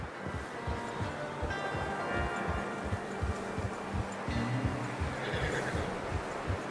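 A horse whinnies in Red Dead Redemption 2, its neigh riding over soft hoof clops and a steady outdoor ambience, moderately close and alone without talk.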